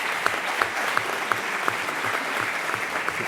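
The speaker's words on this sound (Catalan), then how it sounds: "Un aplaudiment per a aquests molt sense penya." Crowd applause at the Aplec del Caragol snail festival gathering, a short burst of dense clapping with a few sharper claps standing out in a steady rhythm.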